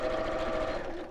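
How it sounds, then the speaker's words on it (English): A sewing machine stitches around the bottom sides of a fabric piece in a brief, steady whirring run, close and continuous for about a second. "So I'm just sewing around the bottom 3 sides."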